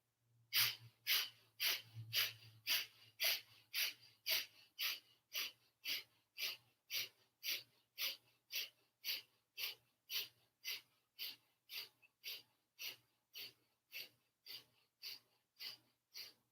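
Rapid rhythmic breathing during a yoga twist in a vinyasa session, a steady run of about thirty forceful exhales through the nose, evenly spaced and close, slowly fading slightly over time.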